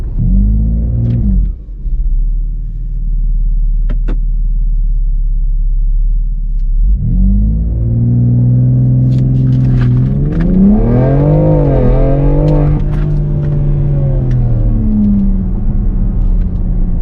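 A 2020 BMW X3 M SUV launches from a standstill: a steady idle rumble gives way to a loud, rising engine roar with revs climbing and dipping through gear changes, close and alone without talk.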